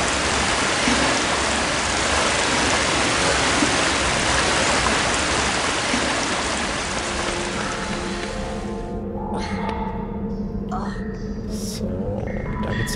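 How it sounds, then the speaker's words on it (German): A waterfall in the 2001 PC video game Harry Potter and the Philosopher's Stone gives a loud, dense, steady rushing roar that drops away after about nine seconds, leaving quieter tones and faint clicks. "Schön hier mit dem Wasserfall."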